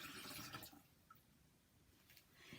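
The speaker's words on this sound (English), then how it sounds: "I'm going to pour that out into the bedside commode" Urine poured from a graduated cylinder into a bedside commode, a faint liquid splashing and trickling that swells, thins out in the middle, then rises again near the end.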